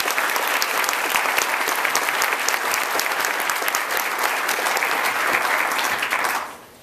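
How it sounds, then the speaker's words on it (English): A large audience at a university fall graduation ceremony applauds continuously and loudly for over six seconds before the clapping stops abruptly. "Let's give her one more hand of applause."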